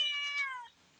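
A small young cat on a goat farm gives one clear, fairly loud meow lasting under a second, with no voices over it.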